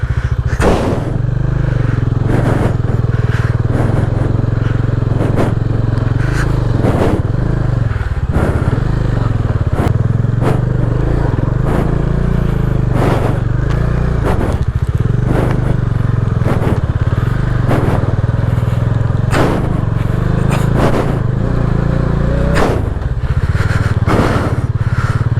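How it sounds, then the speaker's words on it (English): A Bajaj Dominar motorcycle climbs off-road up Kyatanamakki Hills with a steady, loud engine drone close to the mic, broken by repeated knocks and clattering bumps as it rides over rough ground. "So finally I'm climbing Kyatanamakki Hills on my bike"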